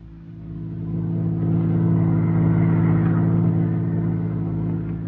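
A 1939 radio drama sound effect of a car driving off gives a steady, close engine rumble that swells after the first second and holds, with no voices.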